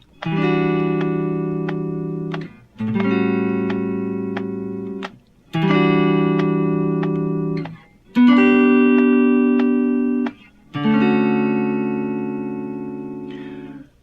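Five sustained electric guitar chords leading into the break of Boz Scaggs' "Lowdown", each strummed once and left to ring for about two seconds before the next, clean and fairly loud with no voices.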